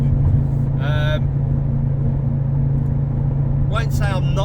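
A tuned turbocharged Ford XR5 gives a loud, steady engine drone and rumble heard from inside the car, with a voice briefly speaking over it.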